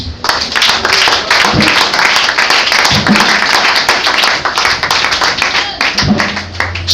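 A church congregation claps to acclaim Jesus during a Sunday service, loud and dense rhythmic clapping that fills the room throughout, with a few low thumps underneath.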